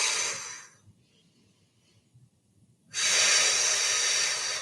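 Heavy breathing during a workout: a long, loud breath rushes out, a quiet pause with faint sounds follows, then another strong forceful breath, close to the microphone.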